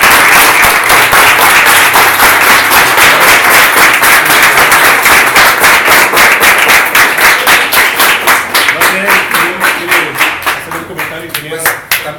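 Loud, sustained audience applause at a school award presentation, dense rapid clapping that fills the whole stretch before thinning toward the end into more distinct individual claps.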